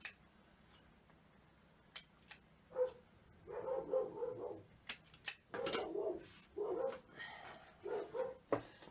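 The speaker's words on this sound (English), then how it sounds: "Sorry if you hear the dogs. They bark at everything these days." Dogs bark in repeated bursts from a slight distance indoors, several barks clustered together with short gaps, over sharp tapping and snipping sounds from miniature craft work nearby.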